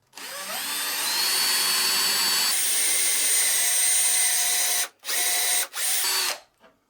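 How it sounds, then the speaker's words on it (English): Power drill boring a dowel hole into a wooden shelf board held by a doweling jig, a loud continuous whine that rises as it bites, then short stop-start bursts before stopping. "Drill the first hole."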